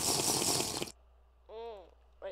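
Flowing water in the video game Minecraft makes a dense, loud rushing wash that cuts off abruptly, followed by a brief voiced sound in a quiet gap.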